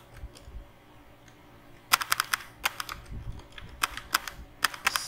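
Fingers type JavaScript code on a computer keyboard, a quiet start followed by bursts of sharp, close clicking keystrokes in uneven clusters, with no talking.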